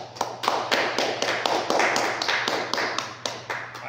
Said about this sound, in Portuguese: Aplaudimos o Senhor.